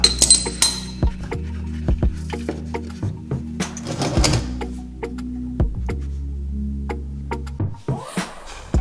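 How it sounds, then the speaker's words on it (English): A 17 mm wrench works loose the oil drain plug on a slightly warm Honda Rancher ATV, producing close, sharp metallic clinks and taps at irregular intervals over a low steady hum. "we'll go ahead and take the 17 millimeter and loosen up the drain plug"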